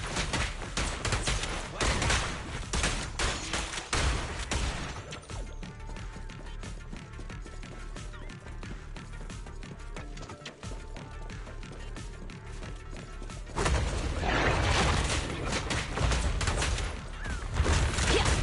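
Gunfire in the video game Zenless Zone Zero: dense bursts of rapid shots and impacts open the sequence, ease into quieter mechanical action in the middle, then return as heavy, loud firing at the close.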